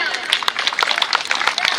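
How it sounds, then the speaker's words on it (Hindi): Loud, dense clapping from an audience encouraging young children about to perform a Sanskrit program on a multipurpose court, steady and close throughout. "कृपया इनका उत्साहवर्धन करने के लिए एक बार जोरदार तालियां"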